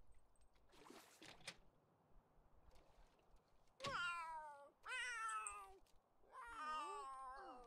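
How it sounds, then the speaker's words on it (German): Cats in the video game The Sims 3 give several loud, drawn-out meows, close and clear, following a few brief soft clicks over a quiet background hum. "die Katzen gehen hier ab."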